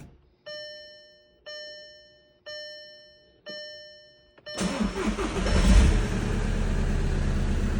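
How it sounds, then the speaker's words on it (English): A 2011 VW Jetta TDI Sportwagon diesel engine is started after a fuel filter service: several repeated dash chimes come first, then the engine cranks and catches into a loud, steady idle close by. "let's go ahead and see if the car will start"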